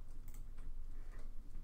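Quick, light clicks of typing on a computer keyboard, soft and fairly close, in a brief burst with no talking.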